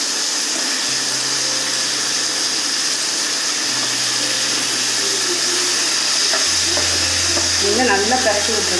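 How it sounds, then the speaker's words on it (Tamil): Drumstick pieces being stirred with onion and tomato in a pan for a Chettinad drumstick pachadi, a steady sizzle with scraping and a low humming drone beneath; faint speech can be heard now and then. "நல்லா பரட்டி விட்டுருங்க"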